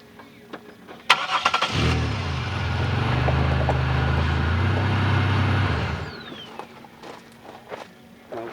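A 2000 Pontiac Grand Prix GT cranks and fires up, a brief starter whir that rises into a loud, close steady idle rumble lasting several seconds before cutting off. Footsteps and shop clatter come before and after the engine.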